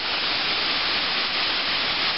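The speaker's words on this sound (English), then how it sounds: "to see a waterfall like that" A waterfall seen from a cliffside viewpoint produces a steady, dense roar of rushing water that stays constant and loud throughout, with no voices.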